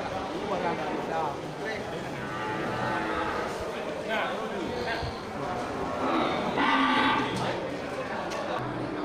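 Cattle moo repeatedly over a busy livestock market in Indonesia, with voices and background bustle throughout.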